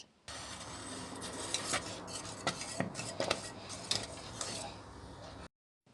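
A thickening lemon-hazelnut Turkish delight mixture is stirred in a pot with an iron spoon or stiff whisk, producing rhythmic scraping and clinking strokes against the metal over a low background, close by, and no speech.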